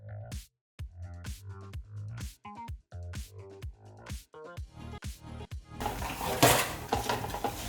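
Fried baby corn tossed into chilli sauce in a pan over high flame, a loud scraping, sizzling stir that follows a stretch of rhythmic tones.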